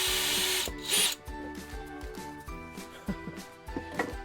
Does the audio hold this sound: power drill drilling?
yes